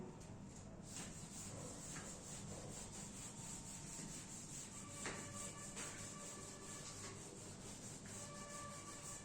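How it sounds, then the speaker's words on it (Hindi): Steady dry rubbing against a board to erase writing during a history lesson, a continuous scratchy friction hiss at low level with a few faint squeaks and taps, no talk over it. "इसको मैं रब कर देता हूं।"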